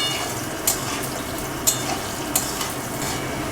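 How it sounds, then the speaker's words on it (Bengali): Cut potatoes fry in leftover oil from fried fish, a steady dense sizzle throughout with a few sharp scraping clinks of a stirring utensil against the pan, close and without talk. "আলুগুলো ওই তেলেই, মাছের তেলের ভাজাতেই আমি ভেজে নিচ্ছি।"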